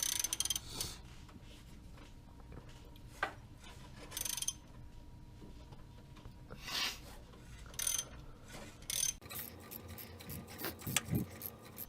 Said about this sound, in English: How did I manage to get this ratchet the wrong way is my question.